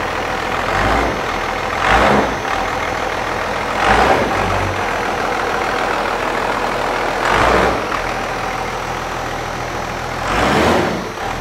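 A 1994 Dodge pickup's 12-valve Cummins diesel runs close by at a steady, loud idle, and its rumble swells in a few brief rev bursts spaced a couple of seconds apart.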